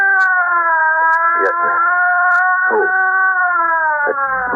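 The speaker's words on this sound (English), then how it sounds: "That's the ambulance, I guess." A loud, steady ambulance siren wails continuously while a few short voices speak over it.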